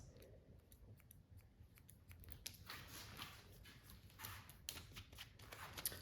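Hairdressing scissors snip straight across hair in a quiet salon, a series of crisp, close, rapid cuts in an irregular rhythm with no talking.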